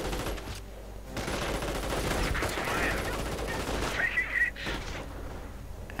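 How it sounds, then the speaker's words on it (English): Assault rifle fire in a 1v1 match of a World War II strategy video game: rapid, crackling bursts of gunfire blend into a dense, continuous battle din at moderate loudness. "Fletcher Kreutz with their assault rifles tearing through them."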